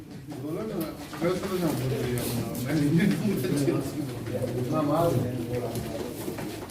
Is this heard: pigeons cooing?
yes